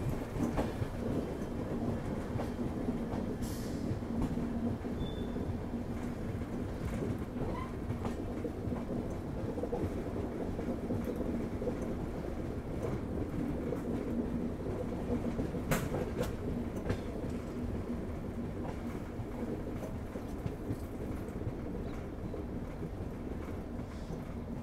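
A train running on rails on the Phulera to Udaipur line rumbles steadily and loudly for the whole span, with a constant low roar and occasional clanks from the wheels and cars.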